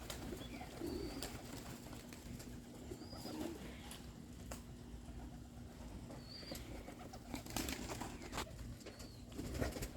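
Pigeons coo repeatedly in a loft yard with short wing flaps and scattered chirps, steady and moderately near against a low constant hum, old birds flying among young ones.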